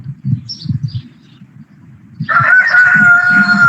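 A hen crows loudly and close by with a strained, sustained cry that begins partway through, after low clucking and murmuring.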